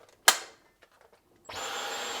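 A Dyson V15 Detect cordless vacuum with its soft roller head for hardwood floors: a sharp click and a few faint taps, then the motor starts up with a steady, close, high-pitched whirr.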